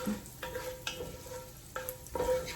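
Bison bolognese simmering in a pan just after a splash of beef broth, a steady soft sizzle broken by a few scraping stirs, close and moderately quiet with no talking.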